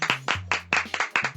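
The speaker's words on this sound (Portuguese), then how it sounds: "Aplausos. Aplausos." Sparse, rhythmic hand claps close up, roughly ten sharp slaps in quick succession with a low tonal hum running underneath.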